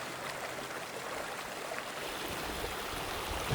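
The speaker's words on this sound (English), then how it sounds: "We descended down to the base of the valley and found a little stream." Small stream flowing at the bottom of a valley, a steady close rushing and babbling of water that continues without a break and with no voices.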